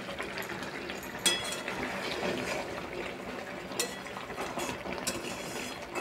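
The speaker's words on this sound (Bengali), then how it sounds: "এখন আমি দিয়ে দেব ভেজে রেখেছিলাম যে আলুগুলো" Fried potatoes being stirred into a simmering ridge gourd curry, with soft scraping, wet stirring and occasional clinks of a spoon against the pan, moderately close and without talk.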